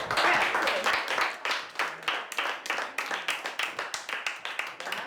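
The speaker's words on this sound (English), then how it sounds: "Give a big clap" A class of children in a Samoan school claps hands together in a sustained burst of applause, steady and fairly close, fading slightly toward the end.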